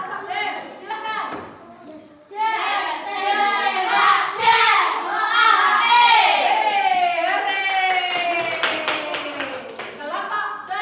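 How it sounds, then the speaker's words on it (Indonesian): Sixth-grade pupils in a classroom clapping for a group, rapid bursts of hand claps mixed with children's excited voices and chanting, lively and close throughout. "Tepuk tangan untuk kelompok Dan."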